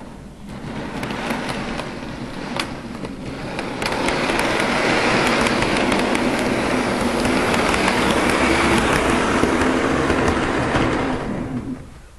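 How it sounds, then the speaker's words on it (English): An Amtrak model locomotive runs on a home layout's worn track, a steady rolling rumble that swells and grows louder partway through, holds, and then fades near the end. "We'll go ahead and run Amtrak first."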